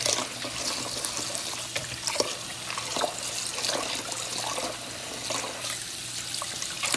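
Rice being rinsed under a running kitchen tap for Caribbean red beans and rice, a steady close water stream splashing into a sink with faint irregular clicks of grains and bowl, no voices over it.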